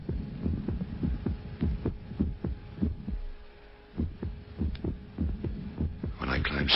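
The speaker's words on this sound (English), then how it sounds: "I keep myself awake listening to the silence that replaces every 8th or 9th beat of my heart." A heartbeat sound effect in a live radio drama thumps in a steady, close, low rhythm of muffled double beats, briefly dropping away as if a beat is skipped before resuming, with a brighter noise swelling at the very end.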